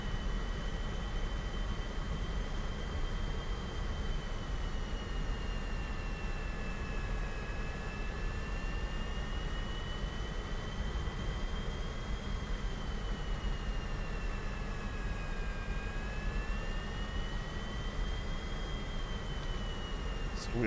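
A MiG-15 jet taxiing in the DCS flight simulator gives a steady, even turbine whine over a constant rushing hum, with a high tone that slowly rises and falls. It runs without a break and no one speaks.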